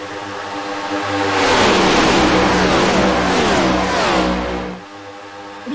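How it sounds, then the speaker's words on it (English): Loud race car engines roar and rev as the cars sweep past on a race track, the sound swelling to a sustained high-pitched howl before dropping off near the end. "Listen to these cars go."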